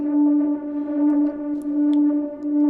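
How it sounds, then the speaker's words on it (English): A sustained tonal synth pad runs through an Ableton hybrid reverb set to algorithmic shimmer at 100% size, giving a steady harmonic drone with a shimmering, echoing wash and a few soft high sparkles. "Now the interesting thing is to add reverb, but we're gonna use the hybrid reverb with the shimmer."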